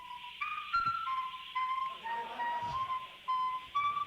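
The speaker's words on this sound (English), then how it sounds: "There's your famous whistle." Someone whistles a wavering tune, the pitch sliding up and down in short phrases over faint background noise.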